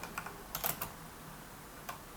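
A computer keyboard clicks in short, irregular bursts of keystrokes while code is entered, close but fairly quiet, with a brief pause before one last tap and no voices.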